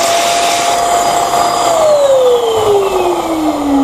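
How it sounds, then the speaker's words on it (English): Electric two-nozzle high-power balloon pump blowing air from both nozzles at once, a loud steady whirring motor hiss that drops slightly in pitch partway through, with nothing else audible. "In the manual mode, you press the switch and the air comes from both these nozzles,"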